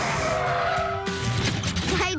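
Cartoon car tires skidding and squealing in a PAW Patrol traffic accident on a slippery road, a loud sustained screech with a crash-like burst midway, under background music.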